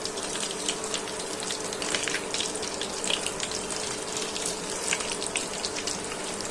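Young hilsa (jatka) fish kofta balls deep-frying in oil bubble and crackle with a steady rushing sizzle, sharp little pops scattered throughout, fairly close and without any talk.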